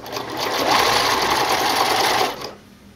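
A sewing machine stitches binding onto the armholes of a racer-back tank top, running in one loud, fast, continuous whir for about two seconds before stopping.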